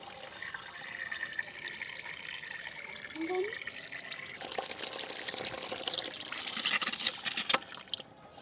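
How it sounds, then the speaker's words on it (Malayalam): Water pours from a mug onto soil in a home lotus pot, a trickling, splashing flow that grows louder and fuller toward the end over faint background noise. "ഈ മണ്ണിന് നിരക്കെ ഞാനിപ്പോൾ വെള്ളം ഒഴിച്ചിരിക്കുക"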